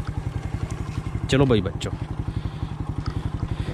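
Motorbike engine thumping at a steady idle-like rhythm on a rough path, loud and close throughout, with a voice briefly speaking over it.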